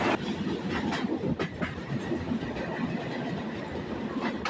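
Train running on rails as it nears Darshana Halt station, a steady close rumble of wheels with a few sharp clacks and faint squealing over the run.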